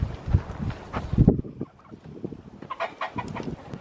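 Chickens cluck and squawk inside a homestead coop, a busy run of short, close calls that thins briefly before picking up again.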